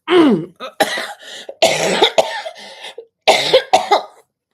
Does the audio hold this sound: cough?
yes